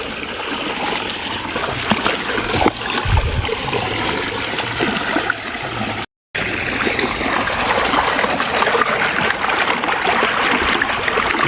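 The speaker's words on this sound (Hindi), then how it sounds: "મિત્રો આ આપણો બોરનું પાણી" Borewell water gushes out in a steady, loud stream beside a garden, a continuous splashing rush that cuts out briefly midway and then resumes just as strongly.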